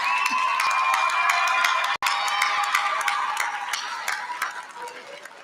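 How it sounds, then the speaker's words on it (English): A large commencement audience at Southern University and A&M College applauds, dense clapping mixed with cheers and shouts, loud and sustained before fading slightly toward the end. "Please give them a round of applause."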